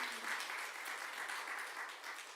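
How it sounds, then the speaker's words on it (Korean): A church congregation at a Korean special Wednesday service claps in a soft, dense, even wash of applause that lasts a couple of seconds. "우리 하나님께 영광의 박수 올려드립니다."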